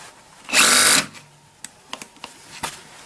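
A Bosch cordless drill driver at maximum torque in first gear unscrewing a screw, one short loud whirring burst followed by a few faint clicks and taps.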